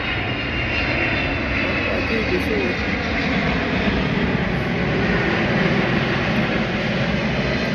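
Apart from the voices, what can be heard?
airplane flying overhead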